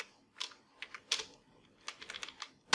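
Computer keyboard typing at a desk, a series of close, crisp key clicks in short irregular bursts with brief pauses, fairly quiet and without talk.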